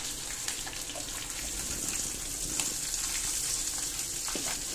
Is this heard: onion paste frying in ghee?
yes